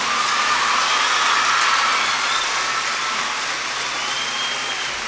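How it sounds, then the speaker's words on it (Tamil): A large audience at a motivational speech gives sustained applause for parents, a dense, even wash of clapping that holds steady throughout without talk. "இவங்களுக்கு உங்களால் எவ்வளோ கைத்தட்ட முடியுமா கைத்தட்டிடுங்க பார்க்கலாம்"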